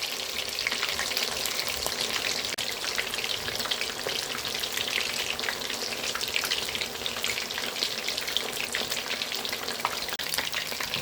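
Pieces of chicken 65 fry in hot oil, producing a dense, even, steady sizzle with fine crackles throughout, close and unbroken, with no talking.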